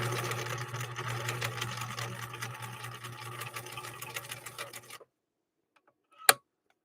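Rare 1963 Husqvarna Viking 19E sewing machine stitching with a Schmetz double eye needle at normal speed, a steady close mechanical whir that stops abruptly, followed by silence and one sharp click.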